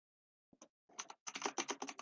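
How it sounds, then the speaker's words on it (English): Computer keyboard typing coming through a voice chat, a few isolated keystrokes followed by a quick burst of rapid clicking, close and fairly quiet with no talking. "I can hear your keyboard. I can hear you typing."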